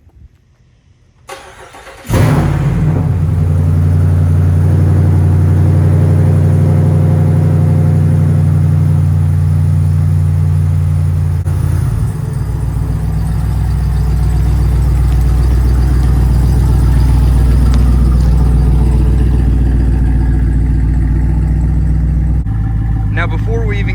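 A Jeep Wrangler JL Rubicon 392 with a changed exhaust cold starts with a sharp crank and catch, then settles into a loud, steady, deep idle that holds close up for about twenty seconds.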